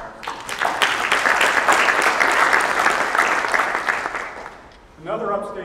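An audience applauds at an organizational event, a dense, steady burst of clapping that fills the room for several seconds, then fades as a voice begins speaking at the end.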